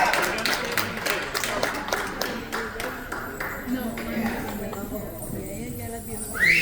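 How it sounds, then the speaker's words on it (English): Audience applause for a group of dancers at a live event: dense, brisk clapping that is loudest early on, mixed with cheering and talk, then thinning out as voices carry on. "Let's give them a round of applause."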